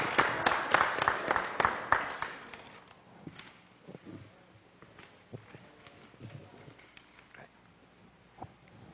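An audience applauds the renowned tenor Dário Franz, a short, fairly distant burst of steady clapping for about two seconds that thins out into scattered, faint claps.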